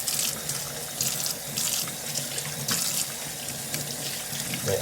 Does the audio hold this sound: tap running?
yes